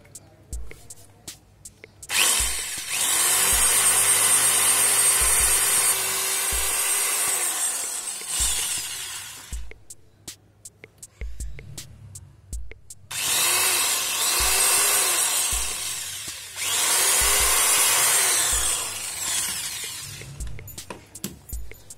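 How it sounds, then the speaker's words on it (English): A power drill bores a hole through the middle of a DIY aquarium light housing in two long, loud whining bursts separated by a pause, with short clicks and handling noise between them. "So let me just drill a hole"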